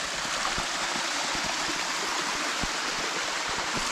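A mountain stream rushes steadily through a small canyon on a rocky hiking route, its broadband water noise continuous and close with scattered splashing ticks.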